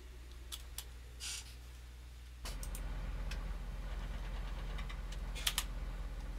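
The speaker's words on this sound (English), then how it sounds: "start my engine." A tractor engine in Farming Simulator 2017 cranks and catches after a quiet stretch with a few faint clicks, then settles into a steady, close diesel idle with a low continuous rumble.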